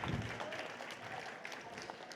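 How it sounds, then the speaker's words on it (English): Audience applause at a Tokyo startup pitch competition, a dense, steady patter of many hands clapping at moderate volume that holds throughout, with no voices over it. "Another round of applause."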